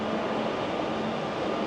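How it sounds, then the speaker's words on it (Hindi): A new-style Barcelona metro train pulls into an underground station, a steady loud rumbling whir filling the platform with no talk over it. "ये जो अब आ रही है ये न्यू स्टाइल की मेट्रो है"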